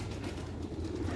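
Young pigeons kept in a loft coo in a low, steady murmur, close and soft, with no other clear sounds.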